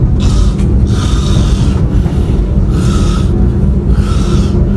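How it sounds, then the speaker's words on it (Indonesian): Loud, continuous snoring from a passenger aboard a train carriage, a harsh rasping drone that swells and fades in steady breaths over a constant low rumble of the moving train. "merasa terganggu oleh dengkuran keras penumpang lain yang ada dalam satu gerbong"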